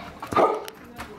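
Dogs greeting people arriving home give one short, close bark, followed by a fainter yip.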